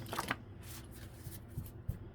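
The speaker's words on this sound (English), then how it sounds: "I think that's a lot of shuffling there." Playing cards shuffled during a tarot-style reading, giving a soft riffling patter with a few louder flicks, faint and close with no talking.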